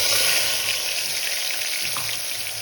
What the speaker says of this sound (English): Let this fry on a low flame